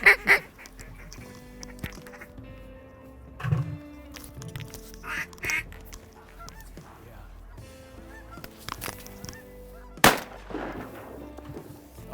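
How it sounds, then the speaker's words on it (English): Geese honk repeatedly over decoys during a waterfowl hunt in Western Nebraska, with scattered duck quacks, moderate distance calling, and a sharp loud gunshot late on. "Actually have geese coming over the decoys."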